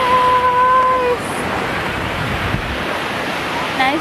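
Ocean waves rolling onto a white-sand beach in Bohol, a steady loud wash of surf mixed with strong wind rumble against the microphone, with a faint tonal whine at the start.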